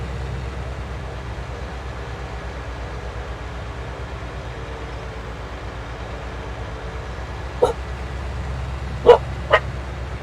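Dogs on a farm give a few short barks in the distance: one yip, then two more barks a moment apart, over a steady low hum.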